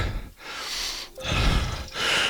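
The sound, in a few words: heavy breathing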